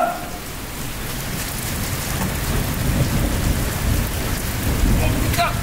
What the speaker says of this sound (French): Ouais, il pleut.